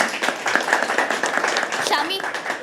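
Audience applause and clapping at a live poetry open mic night at a venue, a continuous patter of hands running under cheering voices and loud crowd chatter throughout.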